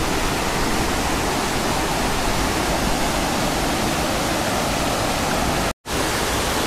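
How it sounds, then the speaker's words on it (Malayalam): Water tumbling over a small waterfall into a stream at Kurumathoor, Kannur makes a loud, constant hiss and roar that runs unbroken apart from one brief cut-out near the end. "ചെറിയൊരു തോട് പോലെ, തോടും വെള്ളച്ചാട്ടം"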